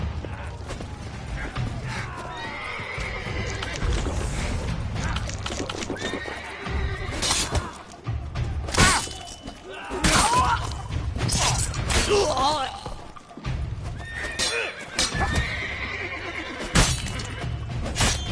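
Horses whinny and neigh repeatedly amid clip-clopping hooves and creaking mechanisms in a Witcher 3 Blood and Wine game scene, loud and busy with overlapping bursts throughout.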